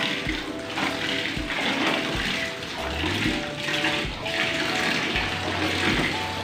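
Tap water pours steadily into a basin for laundry rinsing by hand, a continuous splashing rush with faint clinks and sloshes underneath.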